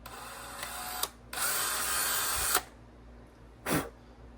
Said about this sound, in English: We're gonna slowly chamfer this so that there's no burrs on here.